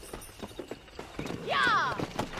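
Hooves clip-clop in a quick rhythm as a horse is ridden in Red Dead Redemption, and a loud whinny rises near the end.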